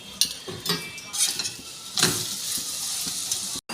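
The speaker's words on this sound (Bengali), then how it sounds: "আমি এটা পরোটার মতো তেল দিয়ে সেঁকে নেব।" A cauliflower paratha shallow-fries in oil on a pan, giving a moderate sizzle broken by bursts of scraping and clinking from the spatula, with no one speaking.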